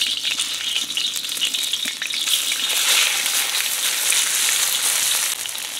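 Chicken strips stir frying in very hot oil over a biomass stove built from house debris, a loud steady hiss and crackle of sizzling with occasional stirring, close up and without talk.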